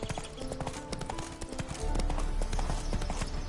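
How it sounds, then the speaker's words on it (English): A horse gallops in The Witcher 3 video game, its hooves clip-clopping in a rapid, steady rhythm that grows heavier and louder partway through, with no talk over it. "Run, Roach"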